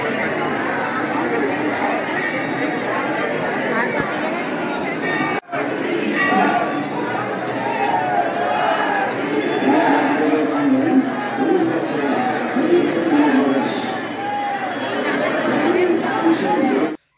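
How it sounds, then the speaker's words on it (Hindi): A packed, rowdy crowd at a Rajasthan temple keeps up a constant babble of overlapping voices with occasional clinking, one brief dropout midway, then the hubbub continues until a sudden cut at the end. "मैंने भीड़ देखी है लेकिन इतनी क्रेजी भीड़ नहीं देखी आज तक।"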